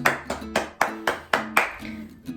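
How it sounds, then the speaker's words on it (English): Sparse, uneven hand claps from a small group at a prayer gathering, about eight distinct sharp claps in a loose rhythm, close and fairly loud with no talk. "Can you give yourself a round of applause?"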